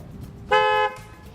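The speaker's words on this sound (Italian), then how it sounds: "un rumore improvviso, in questo caso il clacson di una macchina" One short, loud car horn honk, about a third of a second, rising over a low hum of background noise.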